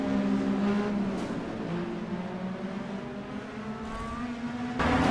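Open-wheel racing car engines from Project Cars on PS4 drone steadily through a replay, layered harmonic whine with shifting pitch as cars run past and knock cones, continuous and moderately loud with no talk.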